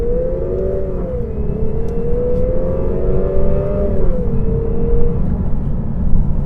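A 2018 Lexus RC 300 F-Sport engine pulls in a long, steady acceleration, its tone climbing smoothly, dipping at a gear change and rising again over heavy road and wind rumble from inside the cabin.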